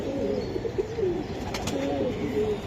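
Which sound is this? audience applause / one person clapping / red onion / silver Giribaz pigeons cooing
silver Giribaz pigeons cooing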